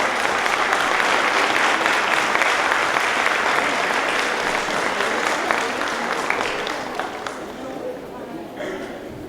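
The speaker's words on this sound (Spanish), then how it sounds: "Démosle un aplauso para recibirlos acá" Audience applause fills a conference hall at a Renacer congress in Chile, loud and sustained crowd clapping that slowly thins and fades over about nine seconds.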